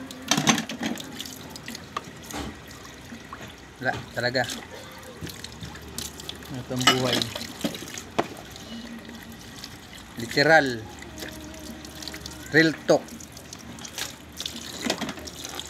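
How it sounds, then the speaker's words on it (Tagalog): Running tap water splashes into a sink with clatter of dishes being washed, steady throughout, while a person talks intermittently over it. "Hugas ang pinggan."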